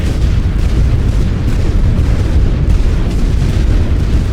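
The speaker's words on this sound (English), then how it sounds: "That's quite a lot of bombardment." Continuous, heavy artillery bombardment from the Western Front in The Great War video game, a dense, loud rumble of overlapping booms and blasts rolling on without pause.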